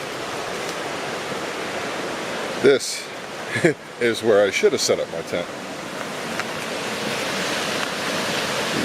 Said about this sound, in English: You see a beautiful river flowing